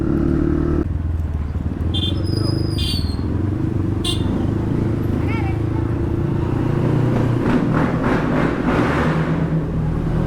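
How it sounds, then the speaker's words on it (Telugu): A 155 motorcycle without its dB killer rumbles loudly while riding on an evening road, with the engine revving and other traffic passing, and a rider talks over it. "చలో మన బండి కూడా ఇప్పుడు వితౌట్ డిబి కిల్లర్."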